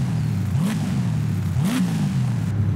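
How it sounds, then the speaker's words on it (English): A Z28 Camaro engine in Forza Horizon 5 idles with a low rumble, then revs twice in quick blips that rise and fall, loud and close. "give a little run around, give you a little rev"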